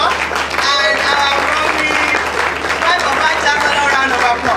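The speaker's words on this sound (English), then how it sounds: "Vice Chancellor a round of applause" An audience at an engineering profession induction and oath-taking ceremony applauds the Vice Chancellor, dense sustained clapping from a large crowd throughout, with a voice speaking over it.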